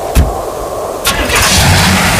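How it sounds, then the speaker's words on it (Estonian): A car's diesel engine cranks in harsh winter frost, two short starter bursts followed by the engine catching and settling into a loud, rough idle close by. "auto käivitub ka karmi pakasega"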